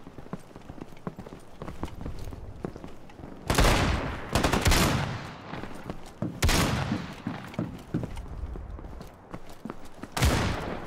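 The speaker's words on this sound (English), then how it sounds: "I love the shotgun now. Or as they call it, the trench gun in this." Trench gun shotgun blasts in the World War II shooter Battalion 1944, several loud booming shots spaced a few seconds apart over a steady bed of gunfire and footsteps.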